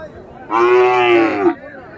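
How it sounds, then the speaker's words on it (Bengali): A Sahiwal cow at a village cattle market gives a single loud, close moo lasting about a second, against faint background murmur. "ভালো করে গরুগুলো দেখাবার চেষ্টা করতেছি যাতে আপনারা গরু নির্ণয় করতে পারেন।"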